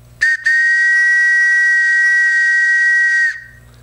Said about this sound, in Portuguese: Esse é um apito da saudosa maquininha, né, dos passageiros.